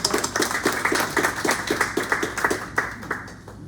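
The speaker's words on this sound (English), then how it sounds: "let's give them all a round of applause" Audience applause at a bookstore poetry reading after the readers are introduced, a steady run of hand claps from a modest crowd that thins and fades out toward the end.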